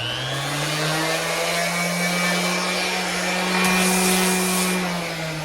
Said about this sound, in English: we can use the edge of the sander